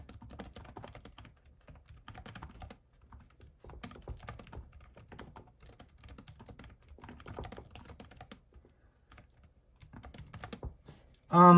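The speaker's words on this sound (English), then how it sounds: "Typing, let's get a little typing feel here." Rapid clicking of laptop keys in uneven bursts with short pauses, close and fairly quiet, ending in a brief louder thump.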